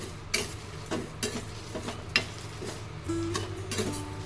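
Poppy seeds added to whole spices dry-roasting in a pan at home for kitchen king masala, with repeated scraping stirs of a spoon against the pan over a soft sizzle and no voices.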